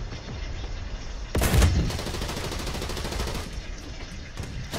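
Gunfire in a War Thunder tank battle against a Russian T28: a sudden loud burst of rapid shots, then a dense rattling fusillade continuing under the game's battle noise, with no talk.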